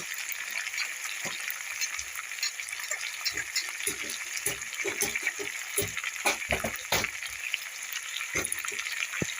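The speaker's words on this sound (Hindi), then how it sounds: "मटर को इस मसाले के साथ भूनते हुए मुझे 2 से 3 मिनट हो गया है" Boiled peas frying with masala in a pan, a steady hiss of sizzling oil with scattered clicks and scrapes from stirring throughout.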